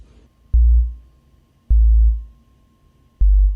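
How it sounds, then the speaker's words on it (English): Three stabby, short sub-bass sine notes from a Logic Pro Quick Sampler, each a deep thump that starts sharply and fades quickly, spaced about a second apart with near silence between. "Next, I've got this sub bass. So that is really quiet, just some really stabby short notes."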